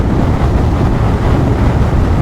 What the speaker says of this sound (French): Oh, le vent, non, le vent, ouais, c'est horrible. Ça fait un boucan d'enfer.